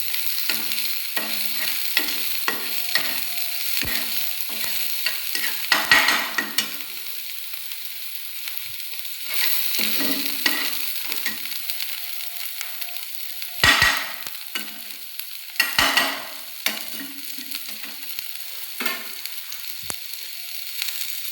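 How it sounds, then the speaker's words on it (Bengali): Chopped chilies fry lightly in a pan with a soft, steady sizzle while a spoon stirs and scrapes now and then, giving intermittent clinks and louder scraping bursts. No one speaks. "এটাকে আমি বেশি ভাজবো না, খুব অল্প করে হালকা করে আমি ভেজে নিচ্ছি।"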